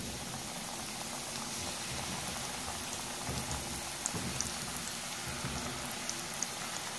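Chicken chowmein rolls fry in oil over a low flame, filling the space with a soft, even crackle and scattered tiny pops, fairly quiet and steady throughout.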